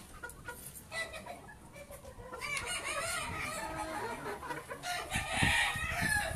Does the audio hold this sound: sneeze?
no